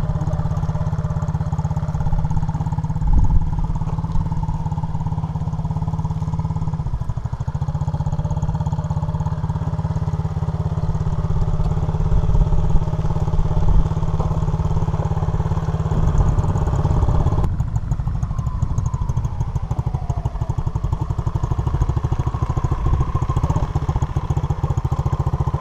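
An SSR Motorsport 110cc dirt bike engine runs continuously and loudly close by, a steady droning buzz with slight shifts in pitch and some clatter as it is ridden.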